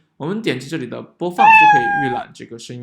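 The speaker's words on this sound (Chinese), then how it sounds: "比如说小猫角色它就会有一个喵的声音" A single drawn-out meow from the default cat sprite sound effect in Scratch, played clearly between short stretches of a person talking.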